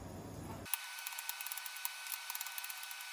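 Rapid, light knife taps on a cutting board while chopping onion, a steady series of crisp chops close by with quiet gaps between them.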